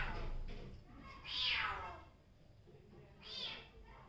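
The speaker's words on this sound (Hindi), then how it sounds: "आवाज़ तो काफ़ी कर रहा है ये बिल्ली" A cat meows loudly indoors in a room, two drawn-out rising-falling meows spaced about two seconds apart over a faint room background.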